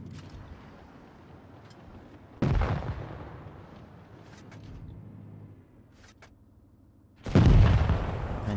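Tank cannon fire in a tank video game, with the T110E4: two heavy booming shots several seconds apart, each a sudden loud blast with a rumbling decay, amid quieter engine rumble and distant battle noise.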